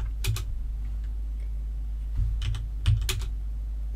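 Someone types a Linux command on a computer keyboard, a few quiet scattered keystrokes followed by a short, brisker cluster of clicks over a steady low hum.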